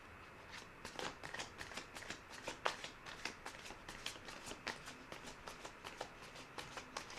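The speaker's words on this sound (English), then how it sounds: "We are gonna put another shuffle and rifle on the deck." Tarot cards shuffled and riffled on a deck by hand, a steady run of crisp papery flutters and soft slaps repeating about once or twice a second, close and fairly quiet with no talking.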